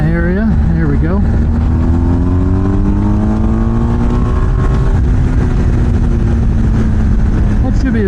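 A BMW GS1250 Adventure motorcycle engine runs loud and close, revving up through rising pitch sweeps, then dropping back and climbing again as the bike accelerates, with constant wind roar throughout.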